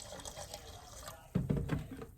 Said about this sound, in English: So we'll do 2 cups of this vinegar.